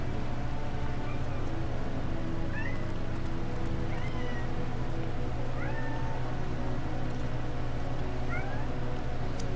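Several pet cats meow one after another, short rising cries spread across the clip over a loud steady background hiss and hum.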